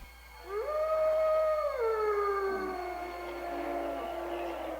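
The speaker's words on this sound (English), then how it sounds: "Pete Coran was a friend of ours who actually did the opening title with the howling with the window that breaks and stuff" A long, rising-then-sustained werewolf howl from a horror film's opening title, a single loud drawn-out wail that gradually bends lower and fades near the end.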